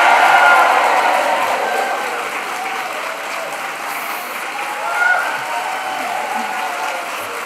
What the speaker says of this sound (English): after 3, a huge cheer for the class of 2025